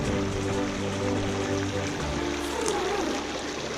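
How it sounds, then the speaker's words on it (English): Bodie Creek in Mineral County, Nevada, running near the ruins of an old mill, a close, steady rush and trickle of water with a low engine-like hum beneath it. "There's Bodie Creek, flowing good."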